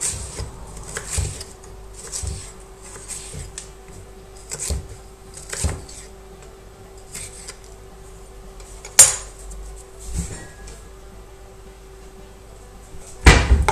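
Sliced ginger root chopped into bits with a knife on a board: scattered sharp knocks and taps in irregular bursts, close, with a few louder clacks, no talk, and a faint steady hum underneath.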